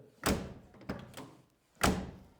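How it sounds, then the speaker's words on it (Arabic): Three solid thunks of a Peugeot 205 car door shutting, close by, with short pauses between them and nothing else around. "اسمعوا معايا تسكيره تاع الباب"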